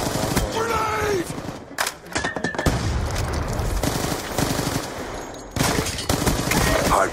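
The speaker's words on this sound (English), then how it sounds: "Grenade!" Gunfire crackles in a Black Ops II multiplayer match, bursts of automatic fire rattling almost continuously with a sharp grenade blast about two seconds in, dense and loud, with faint voices briefly under the din.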